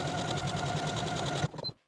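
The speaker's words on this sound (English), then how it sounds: "now I'm going to take this to my machine and use these markings to sew each of my 5 buttonholes" A sewing machine stitches a buttonhole on a shirt placket, a steady rapid mechanical whir with rhythmic needle clatter that stops abruptly, followed by a couple of faint clicks.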